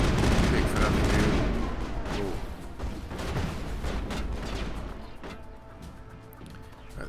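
Gunfire from the Eden Prime battle in the game Mass Effect, a dense, continuous spray of shots and impacts that thins out toward the end, with game noise layered underneath.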